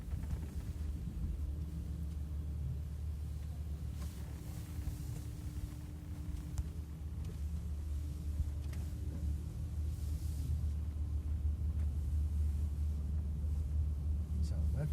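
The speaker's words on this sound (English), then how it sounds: "So that was a small demonstration what is possible with an off-road driving car" Land Rover Discovery 5 driving off-road, a steady low rumble of engine and drivetrain with wind-like broadband noise, continuous and fairly even in level throughout.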